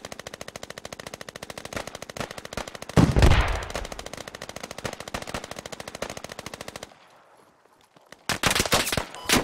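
Sustained automatic gunfire in the Squad multiplayer shooter, rapid and rhythmic, with a heavy burst close by, a brief lull, then more loud rattling shots.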